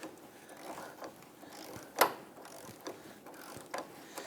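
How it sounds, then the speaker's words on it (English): Ratchet working on a forward lower control arm bolt of a 2000-2006 Toyota Tundra, faint repeated clicking strokes with one sharper metallic clack midway, quiet and without speech. "Now we're removing our forward bolt here."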